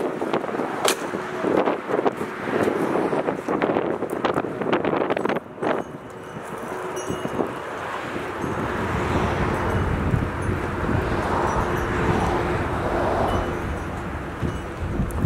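Gusty wind buffets the microphone beside a major road, a steady broad roar with rustling and a few sharp bumps early on, then a smoother continuous rush alongside distant traffic.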